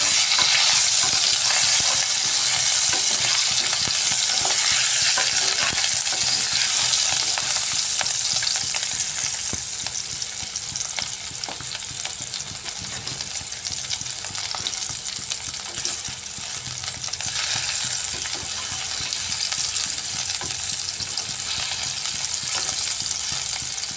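Potatoes fry in hot oil for white aloo dum, a loud steady crackling sizzle close up with occasional stirring scrapes, easing slightly midway then continuing, no talk.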